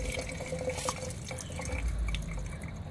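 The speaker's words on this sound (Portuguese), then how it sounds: "Vamos botar água agora." Water trickles and splashes steadily into a plastic coolant expansion reservoir on a car, a close, soft pouring sound with small drips.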